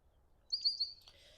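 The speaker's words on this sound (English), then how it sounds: "We have a little red-winged blackbird checking out the feeder." A red-winged blackbird at a garden feeder gives one short, high, trilling call, faint against quiet outdoor air.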